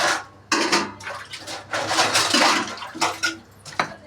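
Water is poured into a cooking pot of pea curry in a home kitchen, giving bursts of gushing, splashing noise that start and stop several times, fairly loud and close, with no talking.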